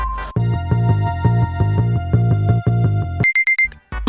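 A drawing-challenge timer alarm goes off with a loud, repeating electronic chiming melody in regular pulses, ending in a few high, quick beeps, close and alone without talk.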